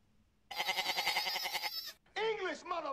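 A cartoon character in an animated Dragon Ball parody speaks in a warbling, goat-like bleat, two loud quavering bursts separated by a brief gap, with a voice imitating a goat.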